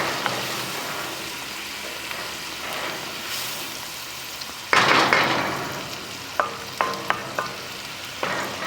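Onions and bacon sweat down in a pan with a soft, steady sizzle, then a louder burst of frying followed by several sharp scraping taps of a utensil against the pan.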